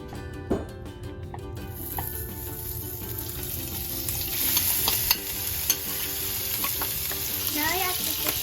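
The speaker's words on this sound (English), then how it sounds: "now we're going to put the pork belly" Pork belly frying in hot oil in a pan, a steady close sizzle that swells as the meat settles, with a few sharp clinks of utensils and stirring.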